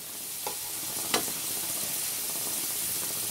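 Carrots fry in a pan with a loud, steady sizzle, broken early by a couple of brief clatters as they are tipped in and moved about.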